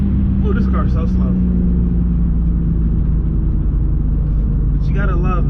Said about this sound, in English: you gotta love that NA M54 sound